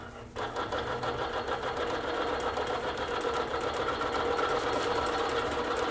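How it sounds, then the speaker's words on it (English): A quilting sewing machine runs steadily, stitching a straight line across a basted quilt top, a continuous close mechanical whir with a rapid needle rhythm starting after a brief pause and holding to the end. "And I'm just gonna stitch a straight line all the way across."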